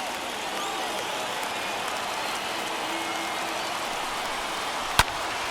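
A stadium crowd in the baseball video game MLB The Show 21 rises and cheers in a steady, broad roar that holds level throughout, with one sharp crack near the end.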